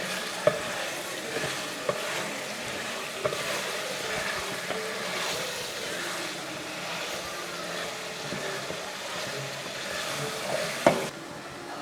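Chicken curry masala sautéing in a pan makes a continuous, close sizzle with occasional sharp clicks of a utensil against the pan and a louder clatter near the end.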